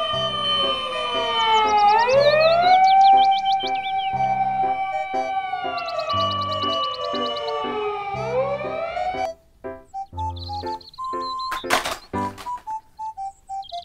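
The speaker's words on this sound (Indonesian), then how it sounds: "Mobil truk pemadam kebakaran." A fire truck siren wails, sweeping up and down loudly for several seconds, then gives way to quieter clicks and short tones.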